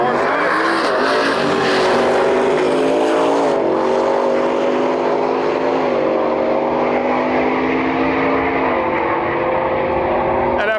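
A Camaro and a regular cab F-150 launch in a drag race at a drag-and-drive event. Loud engines roar and rise through the gears with tire noise, and a voice can be heard over them.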